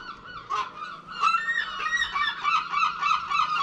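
Geese honking close by in a loose, repeated chorus of overlapping calls, loud and continuous with no talk, outdoors where a drone was attacked by a bird.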